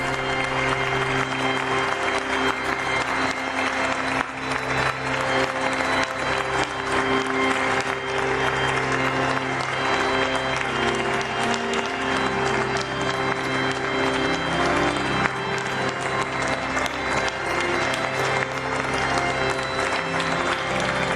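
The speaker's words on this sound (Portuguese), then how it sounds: "aplaudido pelos cardeais presentes" Cardinals applaud the words of Pope Leo XIV in a large hall, a long, even, continuous clapping that holds at a steady level, with faint tonal hum underneath.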